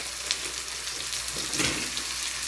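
Chopped onion, chili and garlic frying in a pan for a Sri Lankan prawn curry, a steady close hissing sizzle with no talk.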